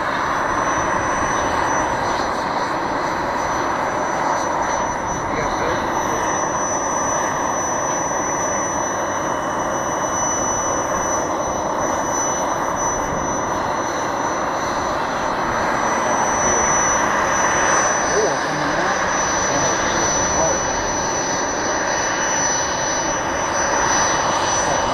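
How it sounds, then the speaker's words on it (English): Jet aircraft engine at an air show, a steady loud roar holding for the full length with a faint high whine on top and no voices. "Gotta see the plane, though."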